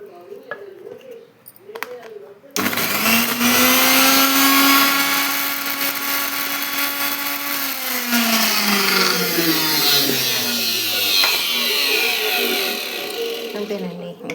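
A kitchen mixer grinder starts abruptly and runs loud and steady with a whining motor pitch that sags slightly as it grinds chutney ingredients, continuing to the end; brief faint voices come before it starts.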